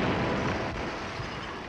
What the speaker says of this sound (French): Pourquoi tu as jeté une grenade chez moi?